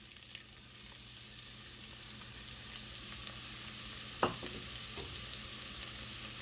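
Celery and onion sautéing in melted butter in a soup pot, a soft continuous sizzle with a sharper clink of stirring midway, quiet and close, no voices.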